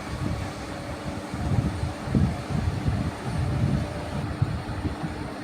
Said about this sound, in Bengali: তো ফাইনালি আমি ট্রেনেও চেপে পড়েছি, এবার ব্যান্ডেল যাচ্ছি